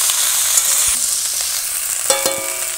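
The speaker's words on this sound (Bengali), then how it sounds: "সব একটুখানি কষিয়ে নেব। নিরামিষ রান্না, সব কিছু ভালো করে কষিয়ে নিলে" Mixed vegetables such as beans and flat beans sautéed for a vegetarian chorchori, a close, steady sizzle in the pan broken by scraping stirs and a few light clinks of the utensil, with no voices.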